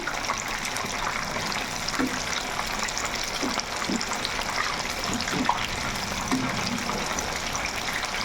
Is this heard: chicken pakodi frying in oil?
yes